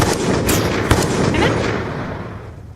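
A bomb explosion sound effect: one loud, close blast with sharp crackling bursts that fade over a couple of seconds, and no talking.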